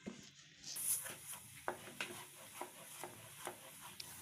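A sweet carrot mixture is stirred in a pan over low-medium heat, with a spoon scraping and knocking the pan at a steady, fairly regular beat and a soft sizzle underneath, close and moderately quiet.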